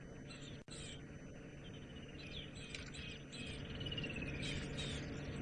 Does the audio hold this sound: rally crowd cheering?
no